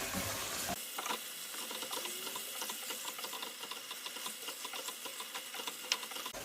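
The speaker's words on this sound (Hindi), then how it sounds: "ये जो हमारे हमने पेस्ट बनाया था वो डाल दूंगी। अच्छे से जो है मिक्स करना है।" Paste stirred into browned chicken for a badami chicken qorma, giving a steady close sizzle broken by scattered scraping and clinking taps from the mixing, with no voices.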